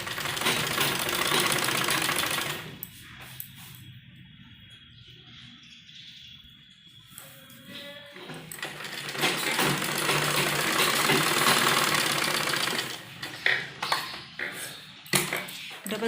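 A sewing machine stitches the shoulder seam of a child's net frock, running loud in steady whirring bursts with a pause in the middle, and a voice speaks faintly at times.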